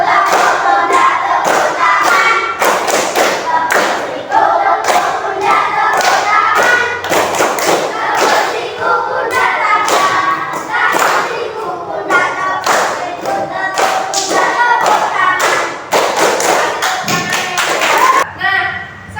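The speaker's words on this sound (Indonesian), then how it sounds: "Kita kasih tepuk siku pundak tangan." A class of fifth-grade schoolchildren claps and slaps a rhythmic body-percussion pattern on elbows, shoulders and hands, loud steady thumps and claps repeating through the whole stretch with a brief pause near the end.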